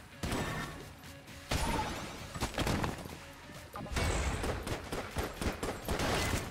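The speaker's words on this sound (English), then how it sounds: "I'm gonna destroy the chest and hopefully get junk" Guns firing in Enter the Gungeon as a chest is shot apart: loud, rapid bursts of shots with crashing impacts that come in waves, pausing briefly before the next volley.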